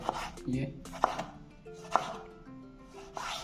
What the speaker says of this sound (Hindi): इसी तरह हम लंबे लंबे टमाटर भी काट लेंगे इस तरह